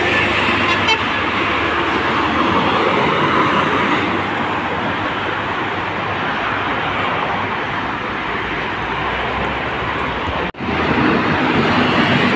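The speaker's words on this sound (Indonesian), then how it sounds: "Karnia Bakti disusul dengan bus transport netral menuju Sumbar" Sumatran intercity coaches, including Karnia Bakti and Transport Netral buses bound for West Sumatra, roar past on the Merak–Jakarta toll road: a steady, loud traffic rush with a brief horn toot near the start and a sharp dropout late on.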